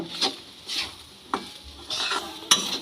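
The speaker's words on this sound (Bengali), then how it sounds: "সবজির সঙ্গে সুজিটা খুব ভালো করে নেড়েচেড়ে ভেজে নেব" A spoon scrapes and knocks against a pan as semolina is stirred and fried with vegetables for a Bengali suji pulao, giving a few separate clattering strokes at close range with no talk.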